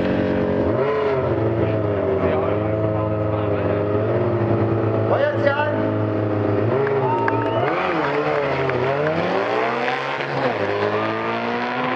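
A 160-horsepower, roughly 200-kilogram sprint motorcycle roars loud and sustained in an eighth-mile drag race, with pitch shifts as it revs and accelerates, while an announcer talks over it.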